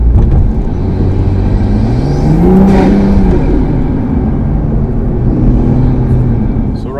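A 2022 Toyota Supra A91 CF-Edition with air suspension and an Fi aftermarket exhaust on normal street driving, heard from inside: a loud steady engine drone with rising and falling revs as it accelerates and shifts, road noise underneath.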